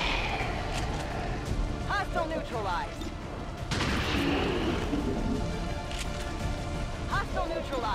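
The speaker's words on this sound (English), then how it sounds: "so it's better to use my gun here." Gunfire and explosions in the XCOM 2: War of the Chosen video game, a dense continuous barrage of booms and shots with a sharp crack midway, under game music and effects.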